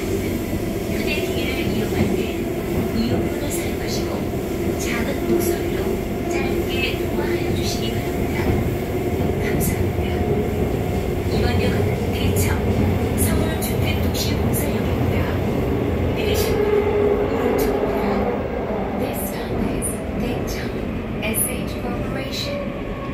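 A Seoul Metro Line 3 subway train bound for Ogeum runs between Hangnyeoul and Daecheong stations, with a continuous loud rumble and rattling wheel noise throughout. An onboard announcement voice speaks over the running noise.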